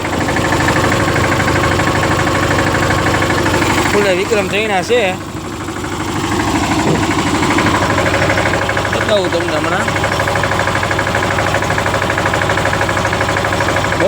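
A tractor engine runs in a soybean field, a loud, steady, close diesel rumble throughout, with someone speaking over it.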